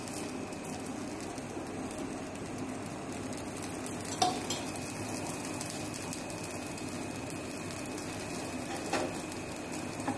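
Moringa leaf dosa sizzling in ghee on a hot pan, a steady close frying hiss throughout with a couple of faint clinks of a utensil against the pan.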